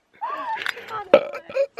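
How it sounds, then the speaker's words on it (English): A person lets out a short, voiced burp outdoors in cold weather at Glacier, mixed with talk and a bit of laughter, loud and close to the microphone. "You scared a burp out of me."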